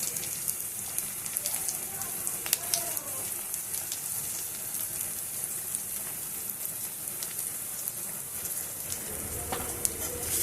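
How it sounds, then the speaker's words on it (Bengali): Sliced onions fry in oil in a pan for a Bengali fish chorchori, giving a steady crackling sizzle with scattered pops and spits throughout. "পেঁয়াজটা আমি দিয়ে অল্প একটু নুন দিয়ে দিলাম, দিয়ে ভালো করে পেঁয়াজটা আমি একটু লাল লাল করে ভেজে নেব।"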